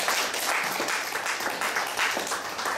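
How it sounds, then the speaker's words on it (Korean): A congregation at a Korean prayer breakfast claps to welcome someone: brisk, continuous applause from a crowd throughout, fairly loud and close. "예, 박수로 환영해 주시기 바랍니다"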